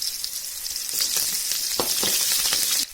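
Chopped shallots with curry leaves hitting hot oil in a pan and sizzling steadily, a dense hiss with a few crackles and pops, close and continuous.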